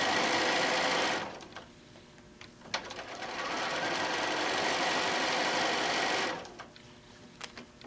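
A sewing machine runs steadily in two long stitching bursts, slowed to a shorter stitch length while guiding an apron panel around its curves, with a brief pause between runs and quiet handling noises at the ends.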